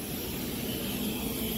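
A small passenger aeroplane on the ground after landing mid-route, giving a steady, loud broadband engine roar with a constant hum and no talk.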